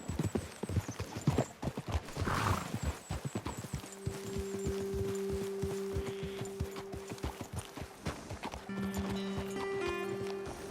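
Horse hooves clip-clop steadily on a trail in the video game Red Dead Redemption 2, a close, brisk rhythm of hoofbeats with a brief whinny and a low steady hum underneath; no talk.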